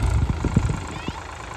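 A low tractor engine idles and chugs briefly, with a few irregular low knocks over the steady rumble; close by, no talking.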